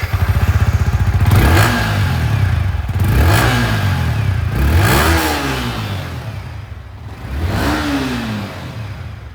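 Loud, close exhaust of a Yamaha MT-15 V2 motorcycle rumbles at idle while the throttle is blipped four times, each rev swelling up and dropping back.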